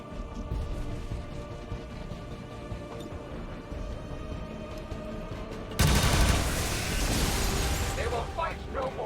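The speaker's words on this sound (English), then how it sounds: "only after the explosion occurs" An explosion in the video game XCOM 2 bursts in suddenly partway through, a loud, broad roaring blast with crackling debris that lingers over an already busy game soundscape.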